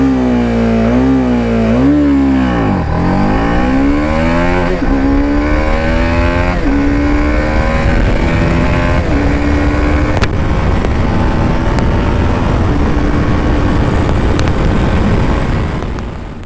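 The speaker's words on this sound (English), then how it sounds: "let's do a quick acceleration test on the Apache RR310 and let's start it up." A TVS Apache RR310 motorcycle accelerating in first gear, its engine climbing steadily in pitch after a brief dip, loud and close without pause, with wind noise building.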